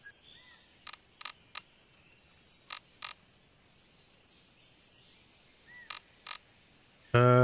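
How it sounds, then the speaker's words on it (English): A ratchet working the camshaft cover bolts on a Toyota 2JZ engine in a junkyard truck, sharp clicking bursts in small groups separated by quiet pauses, close up, ending in a sudden loud clatter. "I'll take the cam bolts off"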